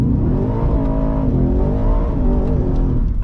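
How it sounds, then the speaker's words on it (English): 2023 Ford F-150 Raptor R pickup with a 700-horsepower V8 roaring hard through a third-gear burnout, a loud, sustained rev with the pitch wavering and climbing as the tires spin, continuous and close. "A 3rd gear burnout in a 700 horsepower truck"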